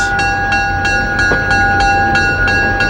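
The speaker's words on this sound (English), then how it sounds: "It's the Napa Valley Wine Train, a fine restaurant on rails." A vintage train, the Napa Valley Wine Train, rolls steadily along the rails with a regular rhythmic clatter roughly every third of a second, and a sustained tonal hum rides over the rumble.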